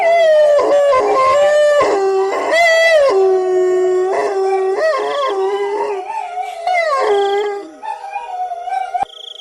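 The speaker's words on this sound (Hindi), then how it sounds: "तभी वहां कुत्तों के रोने की आवाजें आने लगती हैं" Several dogs howl at night, long wailing overlapping howls rising and falling with a few yips, loud and close, continuous for most of the stretch before fading.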